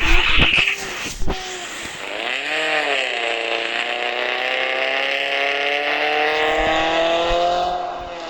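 A car engine starts with a few sharp bangs, then idles and revs steadily, its rising and falling tone holding loud and close for several seconds.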